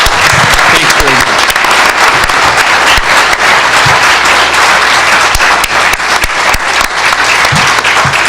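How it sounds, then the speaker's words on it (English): Staff members give Mayor Paul Dyster a standing ovation at an announcement with Governor Cuomo and the Seneca Nation of Indians, filling the room with loud, steady, continuous clapping that holds for the whole stretch. "Those are all my staff that are giving me the standing ovation"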